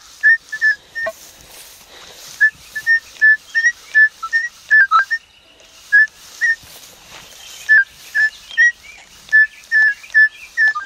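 A metal detector searching virgin ground at an old saloon, hotel and bank site sounds a repeated high warbling beep in short bursts, in two clusters separated by a brief gap, signalling a silver target. Quiet rustling sits between the tones, no talking.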